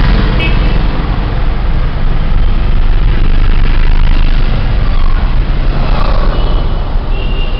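A hand-operated car adapted for a disabled driver being driven, giving a loud, steady rumble of engine and road noise that stays constant throughout with little variation.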